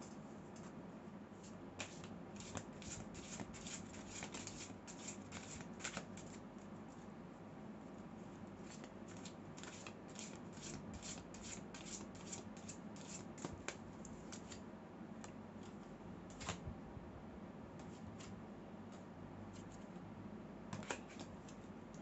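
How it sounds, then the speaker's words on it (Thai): Tarot cards being shuffled by hand, a soft continuous stream of quick papery flicks and taps, close and fairly quiet against a constant low hum. "อาจารย์ขอสับไพ่ต่อหน่อยนะคะไพ่รู้สึกไม่ค่อยเคลียร์"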